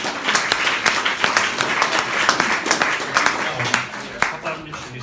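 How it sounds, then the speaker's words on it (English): An audience at a Welsh autism show in Aberystwyth in 2018 gives warm applause after a talk, with dense, lively clapping that stays full for about five seconds before thinning slightly. "So please give them both a very big round of applause."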